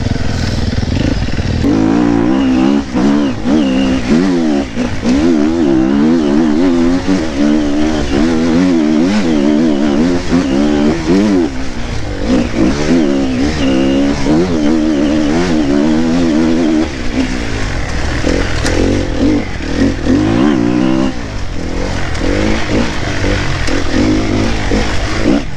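A new KTM dirt bike engine runs loud and close, revving up and down in repeated rising and falling pulls over a steady rumble, with no pauses for the full stretch.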